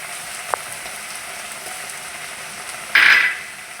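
Crushed garlic hits hot oil in a pan for a chicken curry, a soft steady sizzle with a small tap early on and then a brief loud hiss burst near the end, close and without speech.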